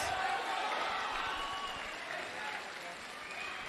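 A crowd at a live MMA cage fight cheering steadily for a fighter, a dense, even roar of applause and shouting that holds throughout at moderate distance, with voices mixed in.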